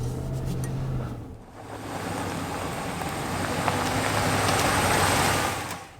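A 2017 Ram Rebel pickup truck drives along, its engine and road noise a steady broadband rumble heard from inside the cab, with a low hum fading in and out and no talking.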